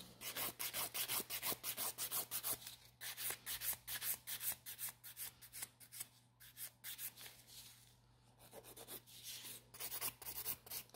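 Gel nail being filed to reshape it, a quick run of soft close rasping strokes in an even rhythm, with a brief pause partway through before the filing resumes.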